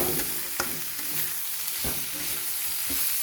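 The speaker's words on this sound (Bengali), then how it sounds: "কেটে রাখা টমেটোটা দিয়ে দেবো টমেটোটা দিয়ে ভালো করে কষিয়ে নেব" Tomato sautés with spices in a hot pan, giving a continuous loud sizzle and frying hiss. Occasional spoon scrapes and stirring knocks break through it.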